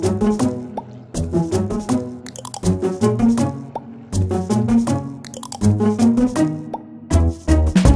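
Thick soap batter made with apple cider vinegar pours and plops into a mold in repeated bursts, wet glopping and dripping sounds up close with short pauses between pours.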